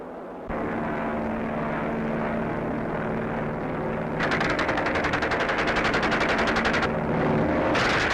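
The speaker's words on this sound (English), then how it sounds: "Here they go to machine gun a target on the ground." A 1941 Hawker Hind biplane trainer drones overhead with a steady propeller engine hum, then rapid machine-gun bursts rattle out in two long strings as it strafes a ground target.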